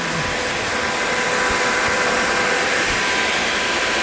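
Steady rushing airflow blows across an upgraded 650cc shifter kart engine, cooling both the cylinder head and the lower motor, a constant broadband whoosh close by with no talking.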